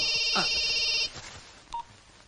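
A telephone rings in a scene from the Telugu film Chatrapathi, one loud electronic trill lasting about a second before cutting off, followed by quiet room noise and a brief beep.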